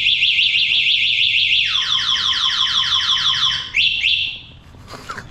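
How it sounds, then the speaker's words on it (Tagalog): A loud anti-theft alarm on a locked NWOW EMC Golf electric vehicle whoops in repeating rising tones, then shifts to a faster warble before cutting off abruptly near the end. "Mag-a-alarm nga."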